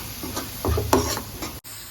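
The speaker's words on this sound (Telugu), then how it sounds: "మసాలాను ఇలా బాగా వేగనివ్వాలండి, లేకుంటే పచ్చి వాసన వస్తుంది." Masala sizzles and fries in a pan for Rayalaseema-style egg curry while a utensil stirs it, giving a close, steady crackle with a few scraping strokes and a sharp knock near the end.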